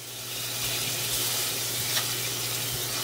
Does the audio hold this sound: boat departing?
no